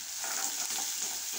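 Chopped garlic and whole small onions frying in hot oil in a pan, giving a steady, fairly faint sizzle and crackle with no voices.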